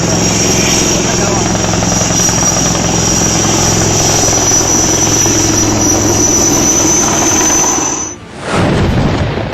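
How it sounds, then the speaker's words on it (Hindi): An Air Force helicopter hovers over a flooded river in Madhya Pradesh, its rotor and engine drone loud, close and continuous with a steady high whine, briefly dipping as a whoosh sweeps past near the end. "ऊपर चक्कर काटता हेलीकॉप्टर। काफी देर तक मध्य प्रदेश के इस हिस्से में वायुसेना का हेलीकॉप्टर मंडराता रहा।"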